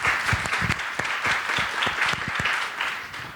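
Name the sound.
audience applause welcoming the chairperson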